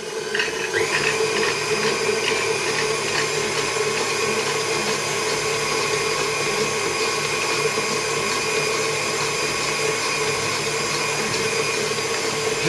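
Electric whisk running steadily through lemon cake batter, beating the mixture until pale; a continuous close whirring motor drone with no speech.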